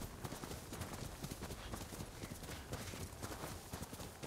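Horse hooves clip-clop steadily in the video game Ghost of Tsushima, a quick even rhythm of soft thuds over a constant ambient bed, at moderate volume and without talk.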